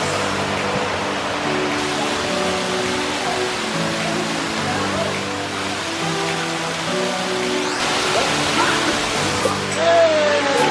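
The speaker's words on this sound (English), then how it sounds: "Take a look at this waterfall." A waterfall in Isaan, Thailand roars with steady, dense rushing water that stays loud and unbroken throughout and swells slightly near the end.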